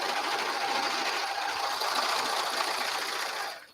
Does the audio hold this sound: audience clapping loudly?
no